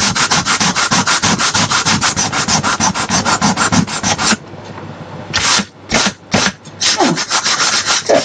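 A Phase5 BPPC2 circuit board is sanded by hand in rapid, rhythmic back-and-forth strokes, loud and close, with a brief pause before the scraping resumes in shorter bursts.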